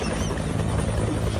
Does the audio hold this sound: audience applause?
no